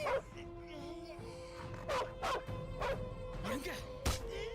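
A dog barks and yips in a movie scene, with several sharp barks spread across the moment, mixed with dialogue and background music.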